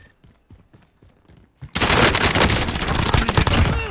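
Rapid automatic gunfire erupts loud and dense in a Call of Duty: Modern Warfare firefight, following a few sparse quieter shots and thumps before, then sustained bursts rattling on continuously.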